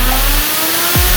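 Turbocharged Kawasaki ZX-14R sport motorcycle running 12 pounds of boost, its engine loud and close with a steady drone that drops briefly, then swells into a sharp rising rev at the end.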